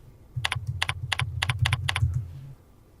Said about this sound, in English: keying in the folder number and pressing the Enter key